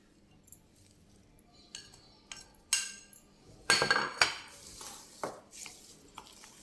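Fenugreek leaves go into a pan for pachadi, with scattered clinks and scrapes of a utensil against metal and a few louder clattering bursts over a quiet background.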